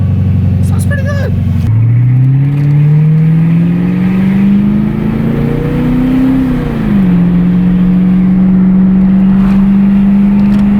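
Audi B5 S4 engine revving close up, a strong low drone that rises steadily in pitch, dips briefly, then settles into a sustained loud tone, with a short sharper burst just before it.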